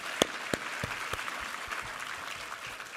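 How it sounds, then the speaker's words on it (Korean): A church congregation at a Sunday worship service applauds, a dense, steady wash of clapping with a couple of sharp louder claps near the start. "우리 하나님께 감사와 영광의 박수 올려드리겠습니다"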